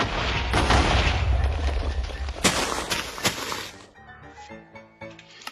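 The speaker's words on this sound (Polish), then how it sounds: "patrzcie to, tam są wybuchy" Rapid bursts of gunfire and booming explosions in Minecraft, dense and loud at first, then sharp blasts, fading into quieter electronic tones.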